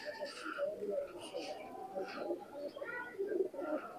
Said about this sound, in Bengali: এটা রামপুরি চান্দাখানি কবুতর।